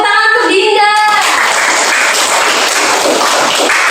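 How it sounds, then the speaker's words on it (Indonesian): A class of students applauds a classmate, Dinda, after her presentation; steady, dense clapping fills the room after a brief moment of voices and tones at the start. "Oke, tepuk tangan untuk Dinda."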